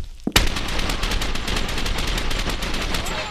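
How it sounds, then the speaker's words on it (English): Sustained automatic gunfire in the multiplayer game The Ship, a dense rapid burst of shots starting abruptly and continuing loud and steady to the end. "That's a lot of gunfire."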